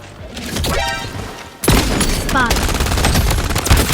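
Bursts of gunfire crackle and thud from a video game, a sharp volley cutting in midway and continuing with scattered shots under a steady background rumble.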